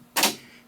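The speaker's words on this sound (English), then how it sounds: "It's making this clicking noise here." A single sharp click from an Akai GX-630D-SS quad reel-to-reel tape deck, a short bright snap over a faint steady hum, fairly close.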